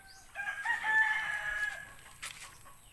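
A rooster crows from a short distance, with hens clucking around it and some light rustling of farmyard activity.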